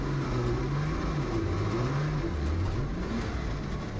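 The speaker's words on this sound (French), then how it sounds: "suivre un buggy dans les dunes, ce n'est pas évident" A rally buggy drives through desert sand dunes during the Tunisia Desert Challenge, its engine droning and revving continuously with wavering pitch as it climbs and descends.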